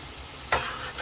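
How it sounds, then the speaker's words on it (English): Mango and sijan frying in masala for a Guyanese fish curry, with a steady low sizzle, then a sudden louder burst of hissing and stirring when they hit the hot pan, heard up close. "So I like to add my mango and sijan to fry up with the masala."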